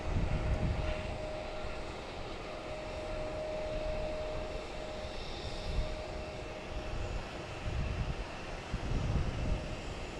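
A JetBlue Airbus A321 departs runway 9 at Boston Logan, its engines a steady, moderately distant roar with broadband rumble and a faint sustained tone, swelling slightly toward the end with no talk.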